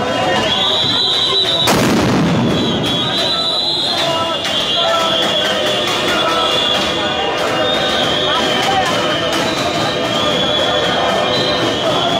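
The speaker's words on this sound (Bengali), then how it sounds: "কয়েক দফা সাউন্ড গ্রেনেড দিয়ে আসলে তাদেরকে প্রতিহত করার চেষ্টা করছেন" A sound grenade goes off once, a sharp loud blast early on, during a clash between police and teachers in a street protest. A constant roar of crowd noise and voices continues around it throughout.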